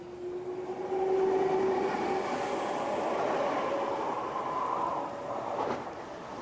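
A Paris metro train rumbling along the track, loud and steady, with a rising whine and a brief squeal of wheels.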